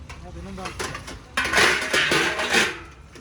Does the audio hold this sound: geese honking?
no